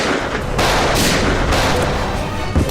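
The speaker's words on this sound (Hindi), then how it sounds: "गोलियों की आवाज सुनकर तुम वहां से भाग गए।" Gunfire effect in a Hindi crime TV drama: loud, rapid bursts of shots and booming reports run dense and continuous, close and harsh, with no speech over them.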